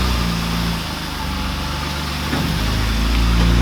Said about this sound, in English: it is pretty quiet for an exhaust on an E36